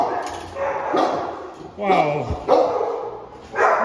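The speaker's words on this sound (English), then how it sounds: "These dogs are wanting to play with me" Several dogs at an animal shelter barking and yipping in short bursts close by, with a person talking over them.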